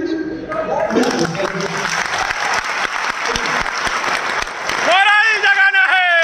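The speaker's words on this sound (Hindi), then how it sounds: "मन कर रहा है ताली बजाने का?" An audience at a business success conference claps loudly and continuously for about five seconds, then the applause gives way to a loud tonal musical sting or effect.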